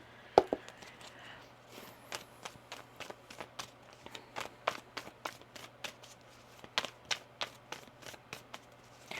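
Tarot cards being shuffled by hand, a quick series of crisp, close riffling snaps and taps in an irregular rhythm over a faint background hum, with no talking.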